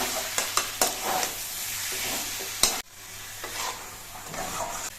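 Banana stem curry with sugar and mustard paste being stirred in a pan, a steady sizzle with a few sharp spoon scrapes and knocks early on, one louder clack midway, then softer continued sizzling and stirring.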